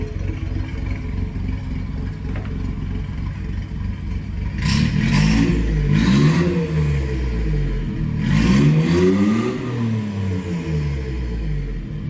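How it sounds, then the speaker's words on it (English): Turbocharged 660 cc Suzuki Carry kei truck engine idling, then revved twice in strong bursts that rise and fall, close and loud, with no talk. "Give it a little rev."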